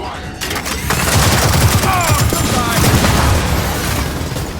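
Dense gunfire and sniper shots crack and boom close and loud in Gears of War 4, layered over a continuous barrage with voices shouting in the mix.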